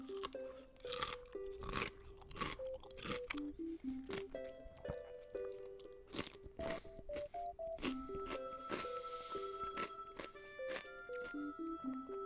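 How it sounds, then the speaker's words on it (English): Crunching bites into a cold pickled gherkin taken from a jar in the fridge, a run of sharp, close crunches and chewing sounds repeating over several seconds, with game music playing underneath. "Listen to this crunch."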